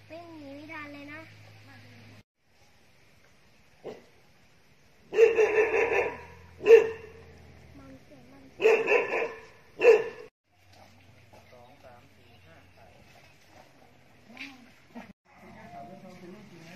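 Dogs at a Buddhist temple bark in a few loud, sharp bursts close by, with talking before and after the barks and quieter whimpers and yips between them.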